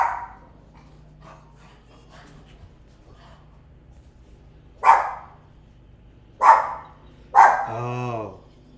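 Bentley the dog barks three times in sharp, separate bursts near the microphone indoors, the last bark stretching into a drawn-out howl-like yowl, with faint talking underneath in the quiet stretch before.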